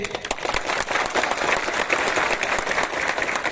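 A crowd at a political rally in Sabroom, Tripura applauds loudly and steadily in dense, continuous clapping close by.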